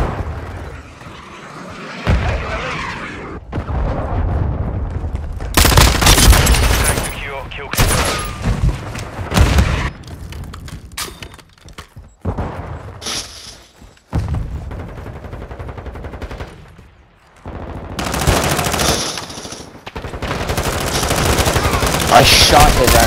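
Dense Call of Duty: Modern Warfare II firefight, with loud close bursts of automatic gunfire and sharp single shots coming in repeated clusters, plus explosions breaking through and short quiet gaps between volleys.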